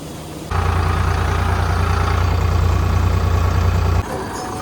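A new tractor's diesel engine runs while a trolley is being hitched on a village farm, a loud, close low-pitched throb that steps up suddenly, holds steady, then drops back to a quieter idle.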